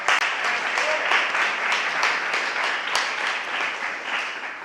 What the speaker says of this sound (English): So just a round of applause for all the people.